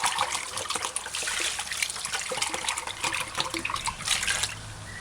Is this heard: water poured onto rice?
yes